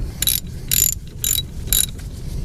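Ratchet wrench loosening a 13mm bolt on the steering column shaft of a Dodge RAM 1500, four quick bursts of close, loud clicking strokes in an even rhythm.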